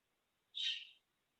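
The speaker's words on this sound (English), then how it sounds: "That was her lovely bird in the background" A pet bird gives a single bright, shrill call lasting about half a second, fairly clear against an otherwise quiet indoor background.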